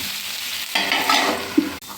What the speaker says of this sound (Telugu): చక్కగా కలిపేసుకొని కొంచెంసేపు మూత పెట్టి